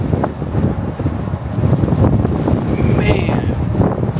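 Strong wind buffeting a microphone outdoors at a gas station in a small snow storm in Ohio, a loud continuous roar with gusty swells throughout.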